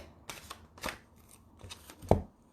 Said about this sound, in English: what I normally do is I shuffle and I spread, and I just ask for 3 cards